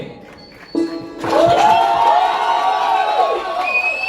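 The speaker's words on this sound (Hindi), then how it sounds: "जोरदार ताली होनी चाहिए।" A ceremony audience breaks into loud cheering and whooping, rising abruptly after a short lull and sustained as a dense crowd roar for several seconds.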